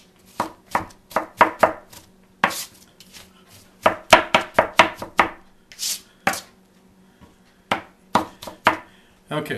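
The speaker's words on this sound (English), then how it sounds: "Just kind of chop it all up like that." A knife chops apples on a cutting board for muffin batter, producing a close, irregular series of crisp thuds in quick bursts separated by short pauses.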